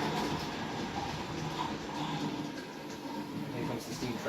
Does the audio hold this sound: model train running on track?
yes